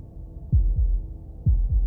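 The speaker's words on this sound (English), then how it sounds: "That was the sound of a heartbeat, followed by another," Heartbeat sound effect in the game Slay the Princess: two pairs of deep, booming thumps, each a lub-dub, over a low hum, with a pause between pairs.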